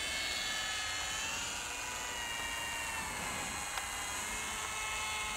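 A small electric Eachine P-47D warbird RC plane with EPP foam and a 500mm wingspan flies overhead, its motor a continuous high whine and buzz holding steady at moderate distance, with no talking.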